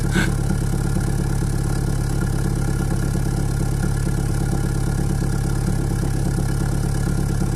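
A Lada 2108 with a 1.3 carburetted engine and Solex carburettor idles steadily and evenly up close, a low continuous rumble with a smooth, regular rhythm and no voices.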